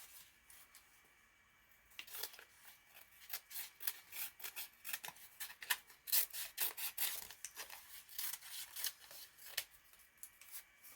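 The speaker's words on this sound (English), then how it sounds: "I'm just going to cut this extra tape stuff off." Scissors snip off excess tape in a craft studio, a quiet run of close, crisp cutting and rustling strokes in an irregular rhythm, with no voices.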